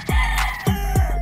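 Late-born national-banded roosters at a gamefarm in Angat, Bulacan, crowing close and loud in three quick, harsh bursts with steady farm noise beneath.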